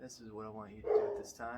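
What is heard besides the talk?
dog barking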